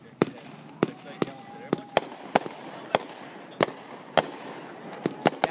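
Cheap fireworks tied together in pairs go off in a backyard on New Year's Eve: a rapid string of sharp, crackling pops at uneven intervals, moderately close, with faint voices underneath.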